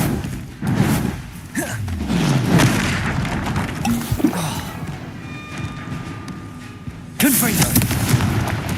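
Explosive Bombarda spell blasts in the game Hogwarts Legacy, heavy booms and thuds layered with magical whooshes, a renewed loud burst near the end, under a voice.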